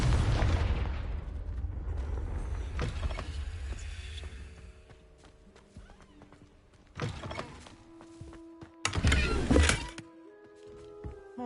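A Confringo fire-blast spell from the Hogwarts Legacy video game bursts with a loud, booming explosion that fades into a long rumbling tail, followed by two later crashing impacts and scattered debris clatter.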